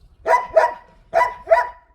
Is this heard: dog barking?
yes